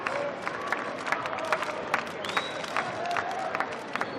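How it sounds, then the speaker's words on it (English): Indoor arena crowd at a women's indoor hockey World Cup semi-final, Germany versus Austria, rising in a steady roar of cheering and scattered clapping, with whistle-like tones and bursts of noise across the few seconds. "Crowd rise to their feet for the final minute of play"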